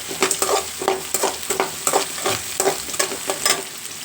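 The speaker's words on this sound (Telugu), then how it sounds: "చూడండి ఆనియను, పచ్చిమిరపకాయ, అల్లం తురుము వేసేస్తున్నాను." Chopped onion, green chilli and grated ginger frying in hot oil, with a steady close sizzle broken by rhythmic spatula strokes about twice a second, loud and with no voices.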